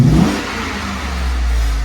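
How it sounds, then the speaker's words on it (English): A wrecked 2014 Ford F-150 SuperCrew pickup's 5.0 engine revs up briefly, then settles into a steady, rumbling idle close to the listener. "we'll let you guys hear the engine here quick."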